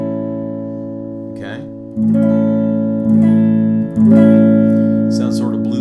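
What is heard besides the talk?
guitar playing a bluesy 7th chord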